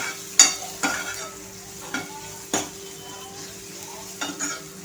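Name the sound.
Manchurian mixture with black pepper frying and stirring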